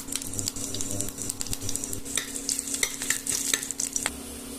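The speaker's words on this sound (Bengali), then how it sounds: "শুকনো লঙ্কা দিয়ে দিচ্ছি, তারপর আমি একটু রসুন ফোড়ন দিয়ে দেবো" Mustard seeds and dry red chillies tempering in hot oil, a dense close crackle and sizzle with rapid popping spatters and some stirring clatter, loud and continuous with no voices.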